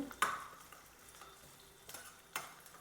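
Chopped onions frying in a pan for a brinjal stir-fry, with a soft steady sizzle and a few sharp scrapes and clicks from a spoon stirring them.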